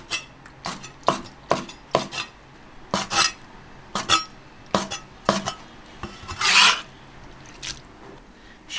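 A knife chops vegetables on a cutting board in a home kitchen, roughly a dozen sharp, close knocks at an uneven pace, with one longer scraping stroke near the end; no talk.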